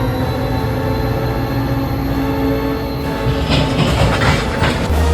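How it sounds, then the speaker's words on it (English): A freight train pulling grain cars brakes with a loud, continuous rumble and rolling wheel noise that is steady and close, brightening with squeal and clatter near the end. "We need all the power we can get to stop this train."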